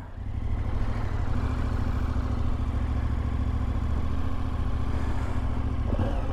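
KTM 1290 Adventure S twin-cylinder motorcycle riding near Le Mans, a steady close engine drone with wind rush throughout, no speech.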